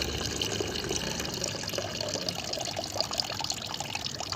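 Tea-leaf water that soaked overnight is poured steadily into a mixture, a continuous close splashing and trickling stream with no speech.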